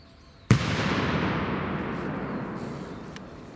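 A Doom Boom 5G firework rocket goes off with a sharp, loud bang, followed by about three seconds of dense crackling and hissing that slowly fades. No voices are heard over it.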